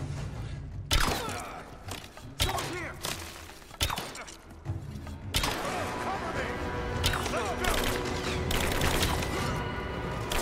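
Gunfire in the video game Rise of the Tomb Raider, with several sharp shot bursts and impacts at irregular intervals, mixed with game effects and someone speaking over the action.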